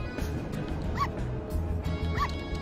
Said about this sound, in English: Oh my god, it barks!